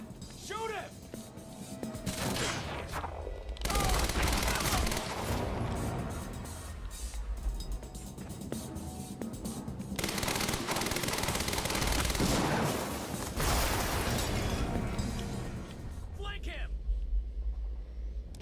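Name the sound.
gunfire in the video game Quantum Break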